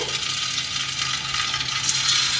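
Paneer pieces dropped into hot oil in a kadai, a steady bright sizzle of frying that holds level throughout, with a small clatter near the end.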